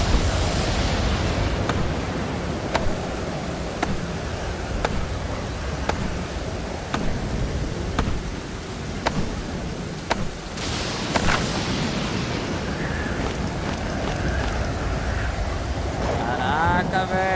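Steady rain falls in the survival video game Stranded Deep, a constant broadband hiss with a washing, surf-like texture and a few sharp ticks, while someone talks now and then.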